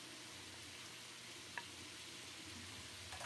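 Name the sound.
chopped vegetables added to cooking chicken in pan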